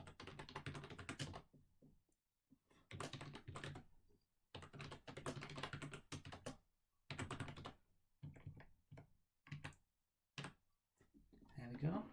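Bursts of rapid clicking from typing on a computer keyboard while coding, coming in short runs separated by pauses, close and fairly quiet, with a voice speaking between and over the keystrokes.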